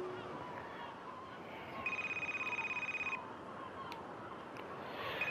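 A phone ringing in the Food Truck Simulator video game, a faint pulsing electronic ring lasting just over a second, with quiet background babble underneath.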